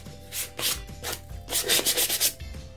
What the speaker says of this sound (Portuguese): passei a lixa, já dei uma alisada